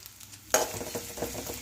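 Sliced medium onion drops into hot oil with a sudden burst of frying, then settles into a steady crackling sizzle, close and without voices.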